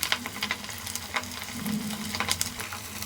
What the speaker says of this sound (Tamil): நம்ம இப்போ வானலில் எண்ணெயை காய வச்சு அப்படியே எடுத்து நம்ம அப்படியே போட்டுடலாம்.